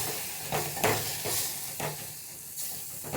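An onion-tomato masala with tamarind-jaggery pulp is sautéed in a pan, giving a soft, even sizzle broken by a few spatula stirs and scrapes, close but fairly quiet, with no speech.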